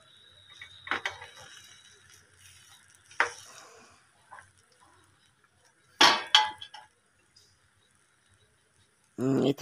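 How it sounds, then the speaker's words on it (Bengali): A plate clinks onto a frying pan holding a Spanish omelette as it is covered and flipped, giving a few sharp metallic and ceramic knocks with quiet pauses between them and a louder clatter near the end. "এই থালাটা ঢাকা দিয়ে এবার ওটা উল্টে দিলাম।"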